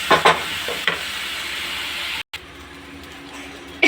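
Masala sizzles and crackles in a pan for egg patishapta curry, with stirring scrapes, then a brief drop and a steadier, softer hiss as water hits the hot spices.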